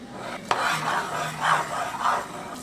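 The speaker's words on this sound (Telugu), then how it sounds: "అదే ప్యాన్లో 2 టేబుల్ స్పూన్ల నెయ్యి వేసుకొని మిక్సీ పట్టుకున్న మిశ్రమాన్ని ఇందులో వేసుకొని బాగా కలుపుకోవాలి" Blended coconut mixture stirred in ghee in a pan, a steady scraping and rubbing of a spoon against the pan in repeated swirling strokes, close and clear, with a small knock at the start and no talk.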